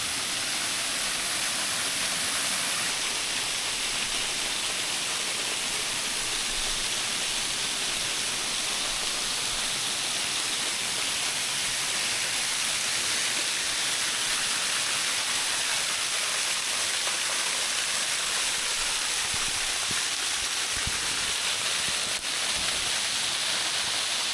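Hew Sin Chai waterfall in Khong Chiam, Ubon Ratchathani, swollen after days of rain, gives off a constant broad rushing roar of falling water, steady and close throughout.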